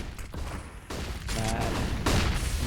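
Pistol gunfire in a competitive shooter video game match, several quick sharp shots packed close together in a brief exchange, with a commentator talking over the action.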